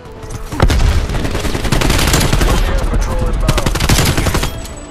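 Dense, loud automatic weapon fire in Call of Duty Cold War Zombies, rapid continuous shots with booming impacts filling the whole stretch before easing off at the end.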